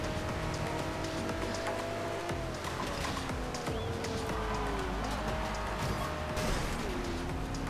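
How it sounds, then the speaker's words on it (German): A car crashes through a phone booth in the racing game Forza Horizon 2, with a couple of sharp smashing impacts cutting through a steady, loud engine drone and road noise. "Da fliegt die Telefonzelle."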